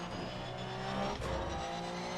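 Porsche 911 race car in Assetto Corsa Competizione at the Nürburgring, engine droning steadily and loud with a tire squeal rising briefly midway, no talk.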